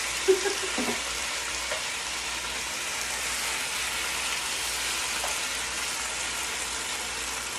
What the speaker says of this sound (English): and you hear the sizzle